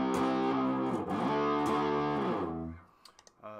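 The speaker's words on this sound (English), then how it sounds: "I do that whole like late 70s distortion kind of." An electric guitar plays through a Tiny Garage Pedals Hoover Hog boutique distortion pedal set for a late-1970s style of drive. Sustained, fuzzy chords ring out and then decay, followed by a few faint clicks at the end.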